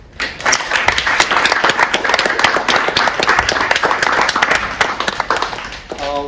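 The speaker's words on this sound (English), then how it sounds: "please join me in a round of applause for Will and Laura Lake" An audience at the UK-China International Photo Competition 2023 'Family Treasures' exhibition applauds. The clapping is dense and sustained, rising quickly and holding steady for several seconds before tapering off.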